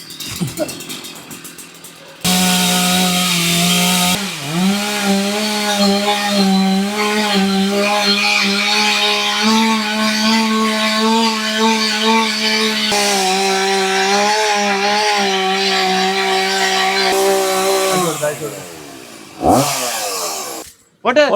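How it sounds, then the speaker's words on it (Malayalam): A chainsaw cuts through wood with a loud, steady motor drone for about sixteen seconds, its pitch dipping and rising as it bites, then it cuts off, leaving a few short knocks. "അങ്ങനെ നമ്മുടെ വാള് കട്ട് ചെയ്തുകൊണ്ടിരിക്കുന്നു"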